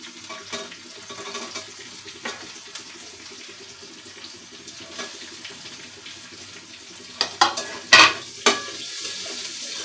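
Chopped onion going into hot oil with minced garlic, giving a steady low sizzle with light stirring scrapes and a few louder clatters near the end; no voices.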